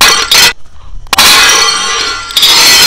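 A BlackView BV6200 Pro rugged smartphone breaks through a stack of three tiles at once, giving loud sharp cracking clangs with a brief pause between them and bright ringing clatter afterward.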